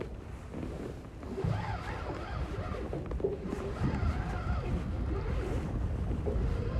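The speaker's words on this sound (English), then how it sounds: "this wind today is like torture" Steady, heavy wind buffeting a microphone aboard a boat out on open water while lake trout jigging, a continuous low roar and rumble with faint water sounds underneath and no talking.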